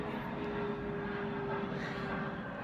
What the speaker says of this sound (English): our house is relatively near DFW airport, so I get planes going by